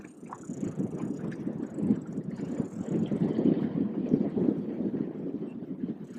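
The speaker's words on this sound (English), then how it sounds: "that wind is horrible" Wind buffets a microphone on a trolling boat out on a lake, a continuous rough low roar that surges and gusts throughout, loud and close with no voices.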